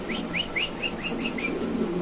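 Pigeons kept in a loft for sale give a run of about seven short, rising chirping calls in quick succession, close and moderately loud over a soft steady background noise.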